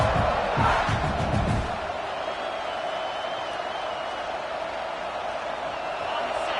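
A stadium crowd roars at a football game, loudest in the opening seconds and then settling into a steady, dense wash of cheering and voices that carries through the whole stretch.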